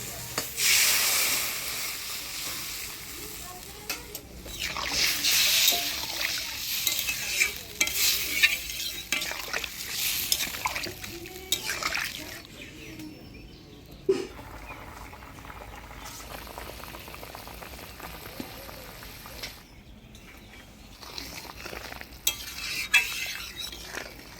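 Water poured into frying spice paste of cumin, ginger and chili for a Bengali foli fish curry bubbles and sizzles while a spoon stirs and scrapes the pan, with busy, close, uneven bursts of frying noise.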